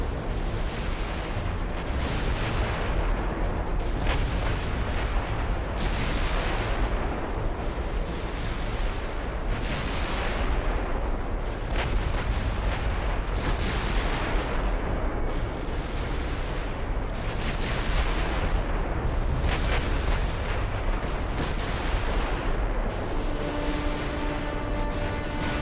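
Naval gunfire in the video game Ultimate Admiral Dreadnoughts, warships firing in an abreast line: heavy booms and rumbling salvos roll on continuously for the whole stretch, dense and loud, with no voices.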